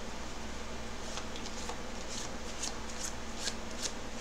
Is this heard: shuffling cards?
yes